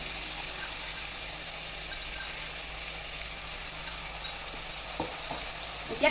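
Local chicken pieces and ground spices stirred in a frying pan for an Assamese curry, a constant hissing fry with occasional faint scrapes and a clack at the end, no voices.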